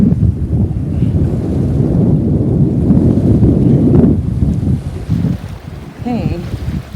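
Wind and rushing water at the bow of a sailboat under way, a steady loud roar of wind buffeting the microphone over splashing water, with a brief voice near the end.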